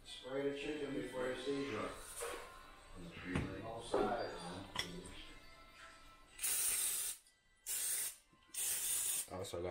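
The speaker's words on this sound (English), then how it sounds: "Spray the chicken before you season it" Three short bursts of aerosol oil spray hiss close up onto chicken, separated by brief pauses, following a stretch of talking.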